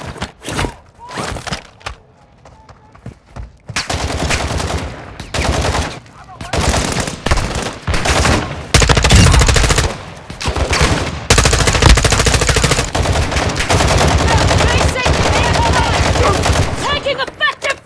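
Rapid bursts of video game gunfire, loud machine-gun volleys and single shots crack in clusters with thuds and short pauses between, while voices talk intermittently underneath.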